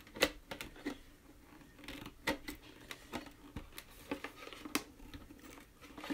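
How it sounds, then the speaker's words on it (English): Scissors cutting through thin plastic while shaping an Easter basket, a series of sharp close snips and crinkles in an irregular rhythm, alone at a low level. "Then I'm going to stick my scissors in here, and I'm going to cut around."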